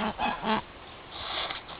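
A goose defending its nest gives a few harsh, loud honks close by, then quieter hissing calls follow.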